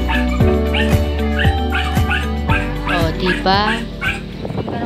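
Hungry pet dogs bark and whimper over and over at close range, in short repeated yips and whines, while a person talks over them.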